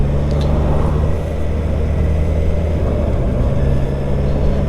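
A Kawasaki Versys 1000 motorcycle with electronic suspension rumbles loudly and close as it rides off, a steady low engine drone with no talk.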